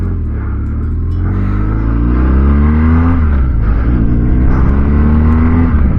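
A BMW R1200GS Adventure motorcycle riding on the road, its loud boxer engine droning close up and rising in pitch through two accelerations in gear, with a brief shift between them and no talk.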